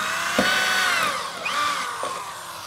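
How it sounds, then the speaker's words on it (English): A 1 1/4 inch hole saw cutting drain tube holes through a boat deck during a transom restoration, a close, loud whining drill with shifting pitch as the bit bites and slows, running continuously. "1 1/4 inch hole saw."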